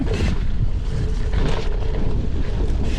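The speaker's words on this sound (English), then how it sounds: "Wow, it's windy." Strong wind buffeting a microphone outdoors at a dirt jump bike spot, a loud continuous rumbling roar with gusty surges and no other distinct sounds.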